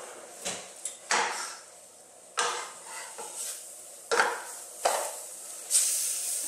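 Ground turkey sautéing on high heat in a pan for a Bolognese sauce, with a steady faint sizzle broken by repeated scraping and stirring knocks of a utensil against the pan, close by, no talking.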